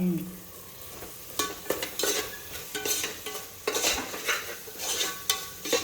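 Vegetables frying in oil for a fresh pigeon pea vegetable pulao, a close sizzle punctuated by repeated rhythmic scraping of a spatula against the pan, with light metallic clinks.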